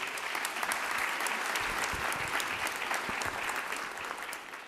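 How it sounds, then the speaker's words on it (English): An audience at a Monroe County youth awards ceremony in Rochester, New York, claps for long-serving Youth Bureau members, a sustained, even roar of many hands that fills the room and tapers slightly near the end. "Hand clap for them, please."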